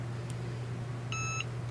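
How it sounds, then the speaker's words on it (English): A Cricut EasyPress heat press gives a short electronic beep, a steady tone of about a third of a second, over a constant low hum, with a faint click shortly before it. "And the Easy Press will beep when it's done"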